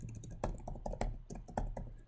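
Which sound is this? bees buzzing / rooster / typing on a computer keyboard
typing on a computer keyboard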